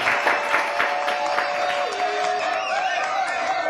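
Studio audience at a French talk show breaks into applause, a dense crackle of clapping mixed with some crowd noise and background music tones, sustained across the whole stretch at moderate loudness.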